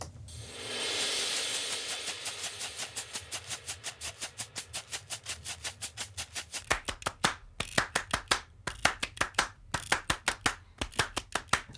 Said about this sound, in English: I've got some weird modulating clap rhythm things